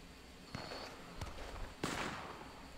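Gunfire in the video game Red Dead Redemption 2, three sharp distant-sounding shots spaced about half a second to a second apart over low background noise, faint overall, no talk.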